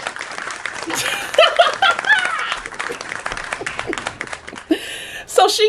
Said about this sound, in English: can I get an applause from the audience?